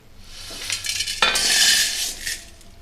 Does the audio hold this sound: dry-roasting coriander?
yes